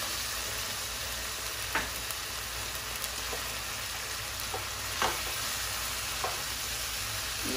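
Seared chicken and softened onion stirred in a hot pan with a little powdered chicken consommé, for chicken cooked in Coca-Cola: a steady close sizzle with occasional scraping strokes of the spoon.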